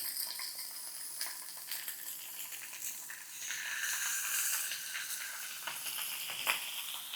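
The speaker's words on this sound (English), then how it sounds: "I'm gonna go ahead and lay the whole fish on the pan, closed." A whole yellow croaker fish fries in a hot cast iron pan, producing a soft, steady sizzle and hiss with occasional crackles and light pops, fairly quiet overall.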